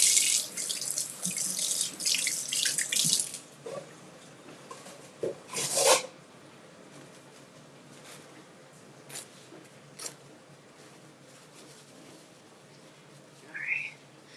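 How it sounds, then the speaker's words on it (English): Produce for a vegetarian spinach salad washed under a running kitchen tap, water splashing loudly into the sink in the first few seconds, then a second burst around six seconds and quieter intermittent trickles and clinks afterward. "So we're gonna wash and cut this up."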